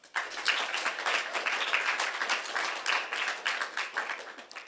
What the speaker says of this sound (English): Let's give our student leaders another round of applause.